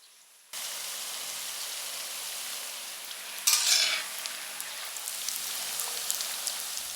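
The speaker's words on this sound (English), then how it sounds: "As we lower the mini spring roll knots into the hot oil, it's important to maintain a low heat to prevent them from burning." Mini spring roll knots are lowered into hot oil over low heat, producing a steady close sizzle and fizz that starts abruptly and briefly swells into louder bubbling before settling into a constant crackle.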